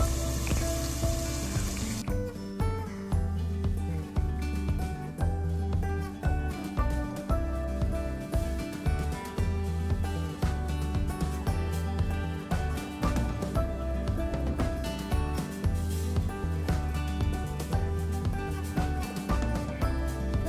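Chicken curry meat frying under a lid in a spicy village-style pan gives a steady, dense crackle of spattering pops, close and continuous throughout, after a brief hiss at the start, with no voices.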